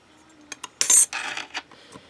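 A blade slicing a thin piece from a polymer clay stripe cane, heard as a few short close clicks and scrapes followed by a brighter, louder scraping burst lasting about a second, then softer cuts trailing off.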